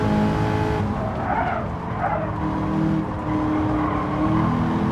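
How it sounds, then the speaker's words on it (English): A Corvette racing in Gran Turismo 7, its engine a steady loud roar with a brief tire squeal early on, holding a constant drone throughout with no talking. "how I imagine such a Corvette to sound like"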